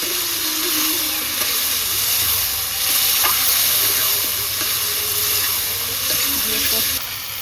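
Spices sizzle and are stirred in a pan for a rohu fish curry with potatoes and tomato, a loud, steady frying hiss with occasional scraping stirs, and no talk.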